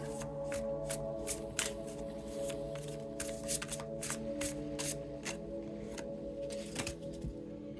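Tarot cards are shuffled in a quick run of crisp riffling flicks over a soft background drone, close and fairly quiet, with no one speaking.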